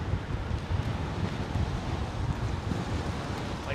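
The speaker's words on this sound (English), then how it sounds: "It's actually becoming quite blustery up here on top of the roof of the van." Blustery wind buffets a microphone on the roof of a van parked near Heathrow Airport, a steady, loud rushing roar with low rumbling gusts throughout and no voices.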